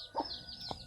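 Domestic chickens clucking on a farm, two short clucks close by with a pause between them, over a steady high-pitched background hiss.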